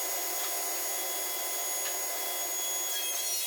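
A saw with a worn disc cuts across a wooden workbench plank, giving a steady, even high-pitched whine and rasp. The sound stays constant for several seconds with no pauses.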